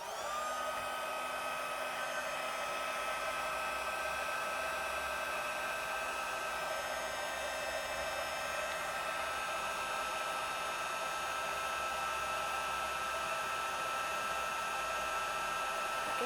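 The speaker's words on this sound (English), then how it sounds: "Let's bring in our heat tool." A heat tool blows hot air onto a handmade card in a steady, continuous whirring hiss at constant strength throughout, with no talking.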